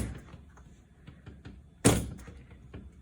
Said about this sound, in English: I folded the clay into itself. This is slamming out, hopefully popping any air bubbles